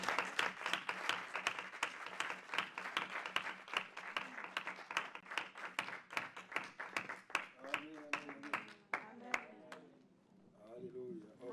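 A church congregation at a midweek Bible teaching service applauds with sustained, rhythmic clapping that fills the room, while voices shout and call out over it toward the end.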